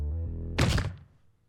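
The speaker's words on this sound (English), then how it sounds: "I'm repelled and I land with my back on the rubble." A heavy body thuds onto rubble in a Fate Stay Night fight scene, one dull, loud impact that swells and then fades, with a low tonal game soundtrack sustaining before and beneath it.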